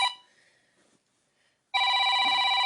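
A telephone rings loudly with a steady electronic trill after a short quiet gap, preceded by the fading tail of an earlier ring.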